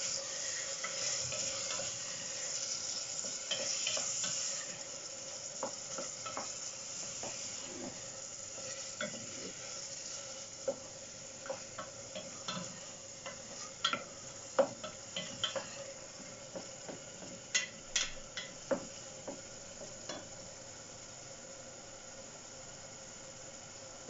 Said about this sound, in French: Et ensuite, vous laissez tout mijoter comme il faut.